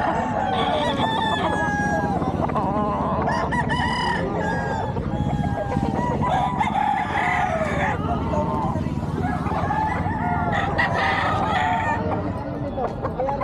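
Several gamecock roosters crow again and again at a crowded cockfight sale market in Bocaue, some near and some farther off, mixed with clucking and a low background of crowd chatter and talk.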